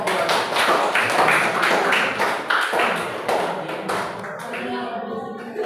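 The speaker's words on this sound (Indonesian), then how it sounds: "kita berikan tepuk tangan untuk kelompok 2." Classroom applause for group 2 in a school social studies lesson, a dense, steady patter of many hands clapping for several seconds before it thins out slightly toward the end.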